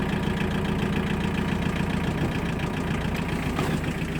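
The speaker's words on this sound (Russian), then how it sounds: "Трактор работает очень ровно и очень тихо." Tractor with 732 engine hours and a rotary tiller, engine idling smoothly and evenly, a steady low rumble close by with no change in pace.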